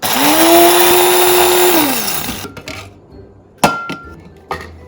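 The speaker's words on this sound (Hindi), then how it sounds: "तो मैं तो इसको क्विकली ग्राइंडर में कर लूँगी।" Kitchen grinder whirring loudly as it crushes whole spices, winding down after a couple of seconds, followed by a few sharp knocks and clatters.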